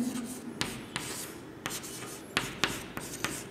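Chalk or marker writing on a classroom board during a Hindi lesson, heard as soft scratchy strokes and sharp taps at irregular intervals, close and fairly quiet, with no talking.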